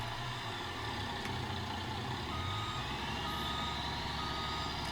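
In Farming Simulator 25, a semi truck idles with a low, steady engine rumble while its reversing alarm beeps repeatedly, fairly quiet and with no voices.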